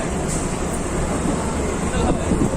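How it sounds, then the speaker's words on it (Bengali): A Katwa–Howrah local train runs along at speed, heard from inside as a continuous loud rumble with faint wheel clatter, and voices murmuring in the carriage. "ট্রেন একদম রাইট টাইমেই চলছে"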